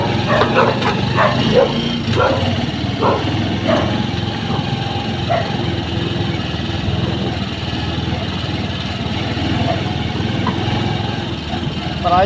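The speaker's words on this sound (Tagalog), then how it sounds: "Ay mga aso dito guys." Several dogs bark in short bursts, mostly in the first few seconds, then fall quieter. A steady engine rumble runs underneath, like a motorcycle idling or moving nearby.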